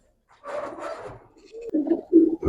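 A pair of silver Giribaz pigeons cooing, soft low burbling calls in a few separate phrases, close and fairly clear, with no talking over them.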